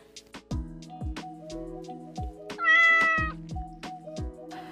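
A cat meows in a forest during a mushroom-hunting walk, with one prominent drawn-out meow in the middle, amid a steady series of sharp, regular clicking or tapping sounds and light background noise.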